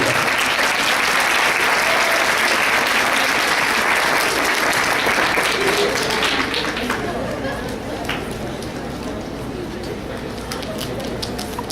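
Sustained applause from a lecture audience, loud and dense at first, gradually thinning out with a few scattered claps and murmurs.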